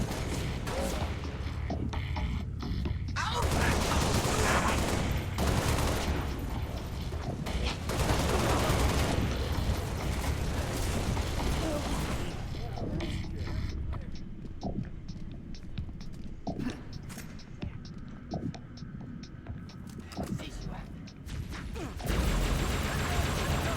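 Explosions and bursts of gunfire crowd a video game battle, heavy and chaotic at first, then thinning into scattered sharp pops and mechanical clicks. Faint talk runs underneath at times.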